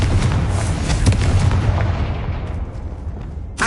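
Confringo spell explosion in the video game Hogwarts Legacy, a loud dense blast with booming rumble that decays over a few seconds.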